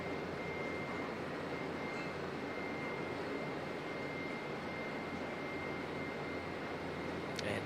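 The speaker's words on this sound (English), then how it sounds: "A330 coming in from Nandi." An Airbus A330 airliner arrives at Auckland Airport as a steady, distant jet roar that holds evenly under outdoor ambience, with no talk over it.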